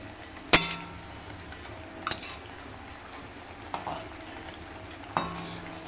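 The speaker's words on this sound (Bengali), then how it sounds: "এই দেখুন এইগুলো ভাজা হচ্ছে।" Pieces of pumpkin fry in hot oil at home on a rainy evening, giving a soft continuous sizzle broken by a few sharp metallic clinks of a utensil against the pan.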